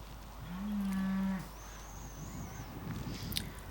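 A single drawn-out cow moo carries over an open field from a short distance, against outdoor wind and rustling, while someone walks along a path near the cattle.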